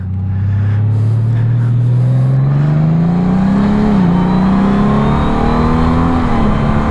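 A 2019 Honda Goldwing DCT motorcycle engine riding on a highway, heard up close as a loud, steady drone that climbs smoothly in pitch while accelerating. There is no talking.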